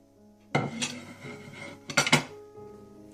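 Gram flour batter with onion, julienned potato, coriander and green chillies is mixed in a bowl, with a few close clinks and scrapes of a utensil against the dish in short bursts between quieter pauses.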